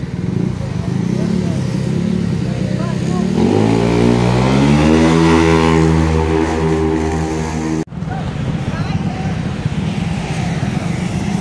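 A Honda Vario scooter with a 59mm bored-up engine, prepared for 10-second bracket drag racing, idles loudly, then revs up through a rising whine before dropping back to a rough, close idle.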